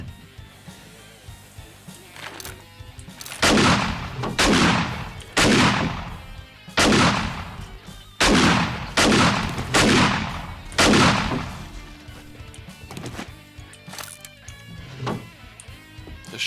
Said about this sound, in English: The shotgun rounds really are music to my ears.